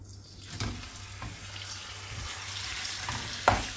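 Half a kilo of minced meat sizzles steadily in hot olive oil in a pan, with occasional stirring scrapes and a sharp clink near the end, close and continuous without talk.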